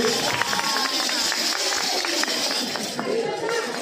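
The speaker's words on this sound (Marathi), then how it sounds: "जोरदार टाळ्या सुप्रिया बेगावकर आणि हेमल इंगळे यांच्यासाठी व्हायला पाहिजे" An audience at a film promotion event claps loudly and continuously, a dense wash of many hands with scattered sharper claps and crowd murmur running through the whole moment.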